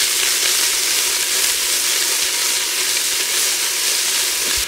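Chicken potjie sizzling in a hot pot, a loud, dense, continuous hissing fry heard up close without pause.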